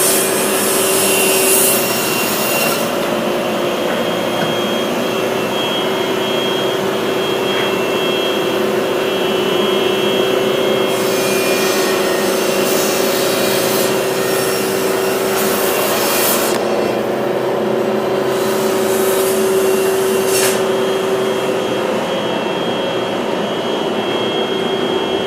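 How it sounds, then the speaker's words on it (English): A MultiCam CNC machine homes itself, a loud continuous mechanical whir with a steady motor tone and brief rises of higher hiss as the axes travel, running alone throughout. "the machine is not home, and we want to home the machine"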